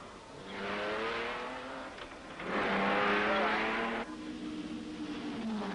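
Triumph Spitfire race cars at speed on the 1964 Tour de France Auto circuit, engines revving near 7,000 RPM in top gear, with loud sustained engine drones swelling and fading as cars pass, and a narrator speaking over them.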